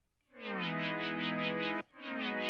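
A synthesizer part made in Serum plays a sustained bright chord with a rhythmic wobble, cuts off abruptly, then resumes after a short gap, clean and alone.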